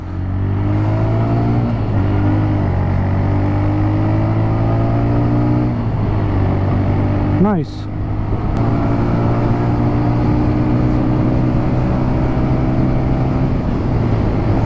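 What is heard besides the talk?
TVS Raider 125 motorcycle engine while riding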